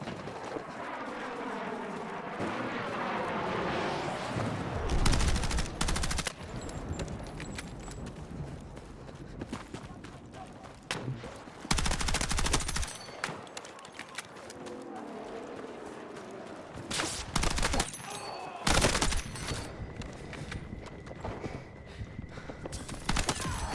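Gunfire in Battlefield multiplayer, with several loud bursts of rapid shooting spread through a busy mix of game sounds.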